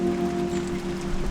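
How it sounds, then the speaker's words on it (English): Rain patters steadily and close by during work on a Proton Saga gearbox outdoors, a constant dense hiss with a low steady hum underneath and no voices. "No, it's raining again."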